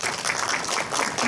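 Audience at an ultrasound training seminar applauding to welcome a lecturer, a dense, even burst of clapping heard briefly throughout.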